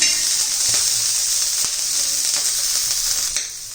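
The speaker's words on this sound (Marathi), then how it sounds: "लांब अशा मिरच्या तळून घेतलेल्या आहेत आणि तूप टाकूनच मी हे तळून घेणार आहे" Long green chillies fry in ghee with a loud, constant sizzling hiss close up, broken by a few faint ticks and pops throughout.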